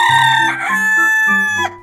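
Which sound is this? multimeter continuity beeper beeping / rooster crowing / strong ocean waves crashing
rooster crowing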